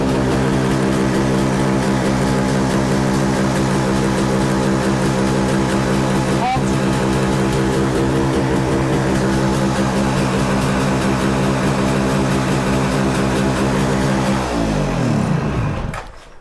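A Suzuki GT 750 motorcycle engine runs steadily at a loud, close idle for most of the stretch, its rich harmonic drone holding even before dropping and dying away near the end.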